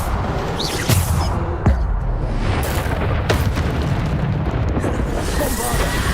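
Spell explosions and magical combat blasts in Hogwarts Legacy, a loud burst of booms, pops and crackling impacts that pile up densely over several seconds.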